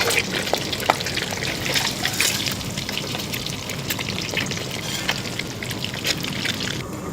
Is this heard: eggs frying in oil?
yes